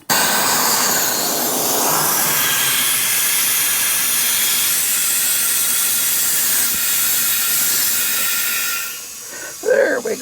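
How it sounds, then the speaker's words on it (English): A clip-on air inflator pumps air into a car tire through a valve stem, giving a steady loud hiss that runs continuously before easing off near the end. "my little air inflator that clips on won't push air into it unless there's a valve stem in it"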